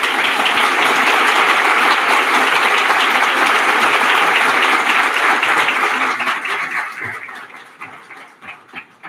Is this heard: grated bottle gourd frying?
no